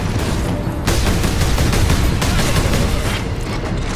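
Lascannon laser gun firing in the video game Warhammer 40,000: Space Marine, a loud, dense burst of blasts and booms that starts abruptly and carries on continuously amid battle noise.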